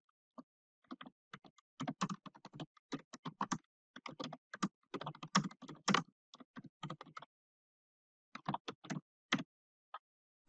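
Bursts of quick, close keystrokes on a computer keyboard entering file content, irregular clusters with short pauses between them, clear and isolated with no talk.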